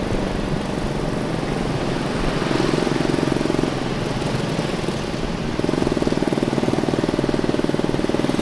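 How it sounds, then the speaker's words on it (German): A vehicle engine carries a rider up a street in Chaweng on Koh Samui, a close steady motor drone whose pitch shifts slightly as it rises and eases, with road noise and no talking. "Jetzt fahren wir hier diese Straße hoch"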